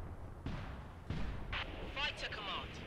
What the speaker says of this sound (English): One flak cannon, 450 meters south-southwest.